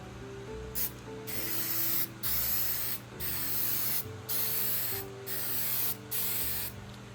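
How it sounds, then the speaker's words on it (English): Repeated bursts of hissing from a Krylon Clear Matte aerosol spray varnish, about seven long sprays separated by brief pauses, steady and close. "Next is the Krylon Clear Matte Spray."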